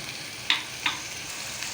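Ground garlic and turmeric powder frying in a pan with a steady low sizzle, broken by two sharp clinks of a spoon.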